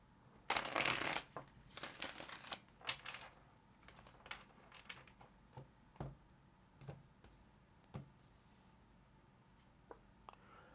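Tarot cards shuffled in a few quick riffling bursts up close, followed by scattered soft taps and clicks as they are handled and laid down.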